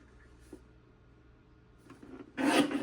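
A paper trimmer slices cardstock panels in a card-making workspace, with a faint rub, then a short, louder rasping cut close by at the end.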